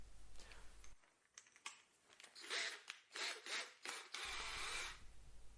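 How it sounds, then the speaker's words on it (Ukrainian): A cordless drill with a 10 mm bit grinds and bores into a wet log in uneven bursts, with scraping, rasping textures and brief pauses, heard close and alone. "Взяв свердло 10 мм і пробую просвердлити отвір у мокрому поліні."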